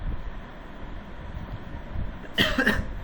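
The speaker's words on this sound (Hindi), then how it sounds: "बार बार खांसी आ रही है मुझे" A single sharp cough bursts out near the end, following a few seconds of quiet room noise.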